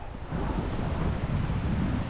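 At Four Mile Beach, Port Douglas, a steady low rush of wind buffets the microphone over the rumble of surf, loud and unbroken for a couple of seconds.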